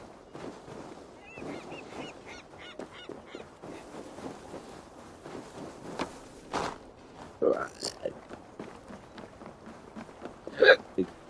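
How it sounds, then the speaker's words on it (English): Repeated hiccups breaking through low background speech and ambient sound, several short sharp gulping catches spaced irregularly across the stretch, with the clearest near the end. "Hiccups."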